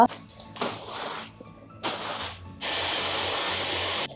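Dyson hair styler blowing air during hair styling at home, loud steady whooshing in three bursts with short pauses between them, the last burst the longest and strongest, with no talking.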